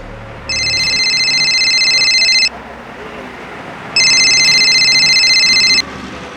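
Telephone ringing with an incoming call, two long electronic ring bursts with a pause between, loud and close over a quiet room.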